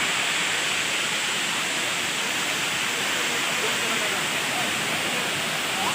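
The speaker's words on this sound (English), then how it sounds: "So that's the waterfall." The Satrem waterfall in Goa roars as a steady, dense wash of falling water heard from near the top, loud and unbroken throughout, with a voice faintly present beneath the rush.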